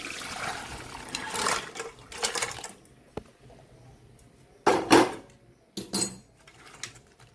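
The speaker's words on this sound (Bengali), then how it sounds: "জলটা ঝরে যাক এবার এটা ফেলে দেবো" Water drains from boiled crabs sitting in a strainer, arriving in several short splashing, trickling bursts separated by quieter gaps, close by and fairly soft.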